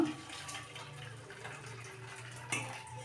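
Water being drained off soaked horse gram in a kitchen, a steady splashing pour running throughout with a brief brighter splash near the end.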